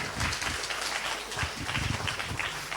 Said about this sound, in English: So please, a round of applause for Mr. Dean Andrews.